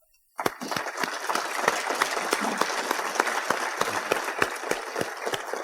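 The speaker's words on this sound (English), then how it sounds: "we honor his memory with a round of applause" A crowd bursts into sustained applause after a brief near-silent moment, honoring an inductee at an auto racing Hall of Fame ceremony; individual claps stand out sharply within a steady, fairly close wash.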